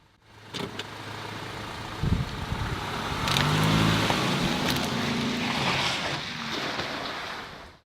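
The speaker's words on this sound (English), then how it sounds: "Here's the S5 prepared to be run over with an SUV." An SUV rolls over a Samsung Galaxy S5 smartphone outdoors, a steady engine rumble swelling and fading over about eight seconds with a brief crunching thump near the start and ambient wind noise throughout.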